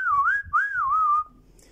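A voice whistles to imitate Copper Kid, the SilverHawks character who speaks only in whistles, two loud close-up warbling phrases that glide up and down, followed by quiet room noise.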